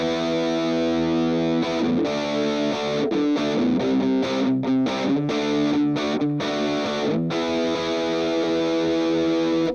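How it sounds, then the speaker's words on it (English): Heavily distorted electric guitar through a distortion pedal set at about twelve o'clock, with a crunchy 80s metal tone, played loud and sustained in chugging riffs with brief muted gaps, no talking. "If I just flip this on and keep it on, I've got the distortion level about at 12 o'clock"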